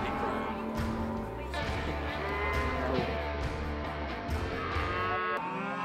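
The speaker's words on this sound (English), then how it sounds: "Listen to this" Cattle on a Wyoming ranch during calf branding, with several loud, drawn-out moos overlapping near the listener, one after another, while people talk in the background.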